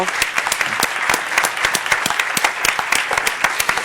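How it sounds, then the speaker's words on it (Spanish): Steady, dense applause from an audience at a talk on Alice in Wonderland, with individual claps standing out close by amid the crowd. "Le pido, por favor, un fortísimo aplauso."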